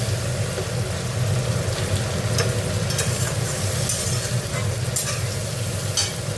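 Tomatoes frying in a pan for a spicy tangra fish curry, a steady broadband sizzle with scattered stirring scrapes and clinks, close and continuous without speech.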